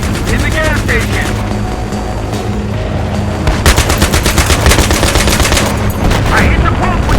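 Rapid machine gun fire from a .50 caliber weapon in a war video game, with loud, dense bursts running throughout alongside explosions and battle noise, and voices shouting over the combat.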